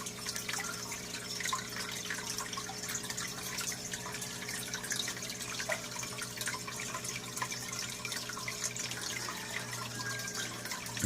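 Water trickles steadily through a bottle power head filter with a trickle extension, passing through sponge, biomedia and ceramic rings; a soft, continuous running and dripping sound with a low hum underneath.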